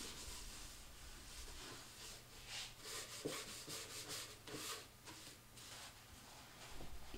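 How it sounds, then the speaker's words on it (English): Paste wax rubbed by hand into the wooden shell of a homemade Meinl bongo cajon, a steady, close, soft scrubbing that swells and eases in short strokes throughout, with no voices. "I finished it off with some paste wax, rubbing it deep into the wood."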